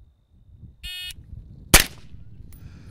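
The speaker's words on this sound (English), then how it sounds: "at the buzzer, you fire one shot at the designated low ready target" A shot timer buzzer sounds as a steady electronic tone lasting about a quarter second, followed after a short pause by a single loud, sharp rifle shot on a shooting range, with faint rustling afterward.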